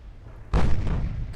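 Heavy naval guns fire in the warship game Ultimate Admiral Dreadnoughts: one sudden loud boom after a low rumbling lull, then a long rolling roar and echo that slowly fades.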